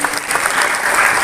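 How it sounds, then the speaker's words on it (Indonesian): A short burst of dense applause from a school class cheering a student team at a project session, loud and continuous with a faint murmur of voices. "Tepuk tangan untuk tim dari Pak Ida."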